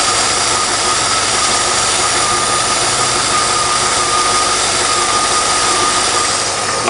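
A Cadillac Eldorado's Northstar engine runs steadily up close, a continuous loud whirring drone with a constant high whine and no change in pitch throughout.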